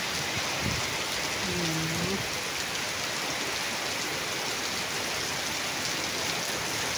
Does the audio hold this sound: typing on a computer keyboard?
no